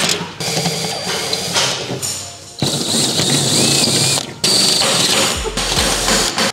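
Power drill boring holes out to 3/8 inch for a rear wing install on a 2022 Subaru WRX, heard as close, steady bursts of whirring mechanical grinding broken by short pauses, with no talking.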